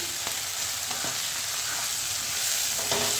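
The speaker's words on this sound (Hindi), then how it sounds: "तो इनको मैं हल्के से भूनूंगी" Green chili paste with turmeric and red chili powder frying in a pan for a spicy okra dish, a steady close sizzle with a few sharp stirring scrapes, no talk.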